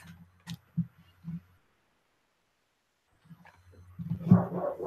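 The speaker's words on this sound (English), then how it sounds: "I don't know if you can hear those dogs." Dogs barking outside in a garden, heard from a home office: a few short, spaced barks, then a pause, then a busier, louder burst of barking. Fairly faint and distant overall.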